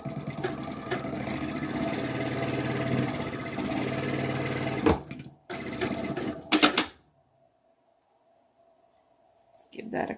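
A home sewing machine stitching pieces of fabric together, running in a steady loud whir with rapid needle ticking, then stopping with a few clunks and near silence before starting briefly again; a voice talks quietly over it.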